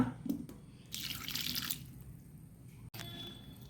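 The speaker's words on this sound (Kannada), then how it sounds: "ಎಲ್ಲ ಹಾಕ್ಕೊಂಡು ಸ್ವಲ್ಪ ನೀರು ಹಾಕ್ಕೊಳ್ಳೋಣ." A little water is poured into a pot holding chopped mango for a Karavali-style recipe: a short, bright splashing pour in the middle, framed by faint clinks and handling noises, close and quiet, with no talk.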